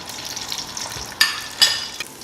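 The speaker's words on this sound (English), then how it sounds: "We will fry the green onion first" Green onion fries in oil at the start of a Pakistani biryani, a soft crackling sizzle with two brighter bursts of spattering as pieces shift, close up and without talk.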